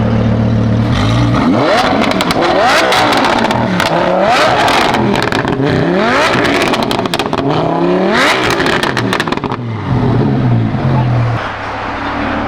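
A loud straight-piped Lamborghini exhaust roars through repeated sharp revs, rising and falling in pitch with crackling bursts between, close by and unbroken for over ten seconds.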